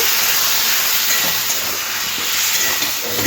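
Water hits turmeric and chilli powder frying in a pan for a shrimp, pumpkin and malabar spinach ghonto, giving a loud, steady close hiss of steam and sizzle that barely changes throughout.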